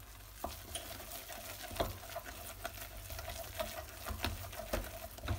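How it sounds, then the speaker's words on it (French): Choux pastry dough is stirred with a spatula in a pan over low heat, making a quiet, continuous faint sizzle with frequent soft scraping and patting strokes spread evenly throughout. "Mélangez la spatule."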